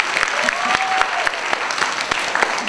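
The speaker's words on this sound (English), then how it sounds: "can we just give a big round of applause to all of our King kids" A crowd at a school awards program claps loudly and closely, with sharp individual claps standing out in an irregular rhythm over a continuous spread of applause.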